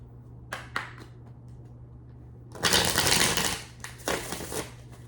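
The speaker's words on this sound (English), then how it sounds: "I'm gonna shuffle through one more time" Two bursts of tarot cards being shuffled, a short riffle followed by a longer, louder one, then a brief shuffle again, close up over a low steady hum.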